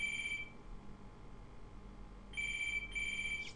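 A landline phone connected through an internet service rings loudly in a room, two bursts of electronic bell tone separated by a long pause.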